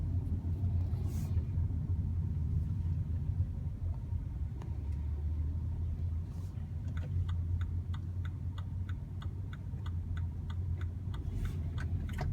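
A 2016 BMW X1 with firm suspension and a short wheelbase drives on the road, heard from inside as a low steady rumble of engine and tires, joined midway by a regular ticking like a turn signal.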